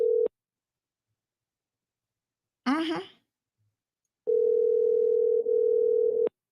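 Phone line tone during an unanswered call: a steady electronic tone cuts off at the start, a short voice-like burst follows, then a long unbroken tone returns loud and close for about two seconds.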